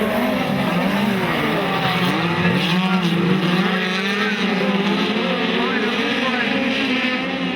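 Speedcars roar around the Maryborough Speedway oval in a race, loud overlapping engines rising and falling as they pass, with an announcer commentating over the top.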